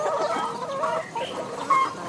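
Free-range hens on open pasture cluck softly and continuously, several birds murmuring together at close range over a steady outdoor background.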